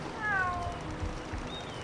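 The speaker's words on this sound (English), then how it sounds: "Those cats are driving me crazy." Cats meow in the fantasy role-playing video game Drakensang: The River of Time, a clear drawn-out meow up front, then a thinner distant mew later over a steady murmur of game ambience.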